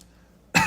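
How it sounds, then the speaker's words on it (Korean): A single loud, close cough bursts out at the end after near silence, sharp and harsh with no talking around it. "기침을 해요."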